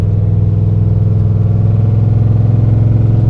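Chevy 454 V8 in an OBS Chevy tow-rig truck drones steadily at cruising speed, a loud, constant low rumble with a faint exhaust note and no talk.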